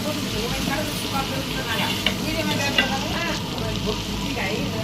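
Ginger garlic paste sizzles and fries steadily in a hot pan, with a continuous crackling hiss and a few louder pops and stirring scrapes, at close range throughout.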